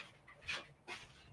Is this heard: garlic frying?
no